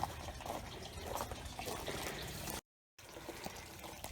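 Water drains from aquaponics grow beds into tanks below on a farm, a soft continuous trickling and splashing, quiet and close, broken by a brief silence near the end.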